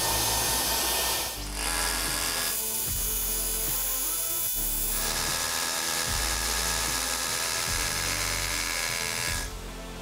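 A DeWalt DCH172 5/8-inch brushless rotary hammer drills into concrete, giving a loud, harsh, continuous grinding whine that pauses briefly between holes and shifts in texture partway through.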